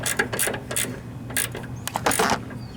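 A socket ratchet tightens a nut on a Craftsman riding lawn mower's steering linkage, making a run of close, sharp clicking bursts in uneven rhythm.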